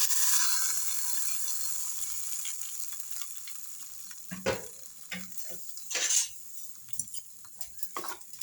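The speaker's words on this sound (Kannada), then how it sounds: "ನೋಡಿ, ಇವಾಗ ಒಗ್ಗರಣೆನ ಚಟ್ನಿಗೆ ಹಾಕ್ತೀನಿ." Sizzling tempering of cumin, curry leaves and asafoetida poured into a roasted gram and dry coconut chutney, a steady hiss that fades, then a few sharp crackles and stirring clinks near the end, with no talk.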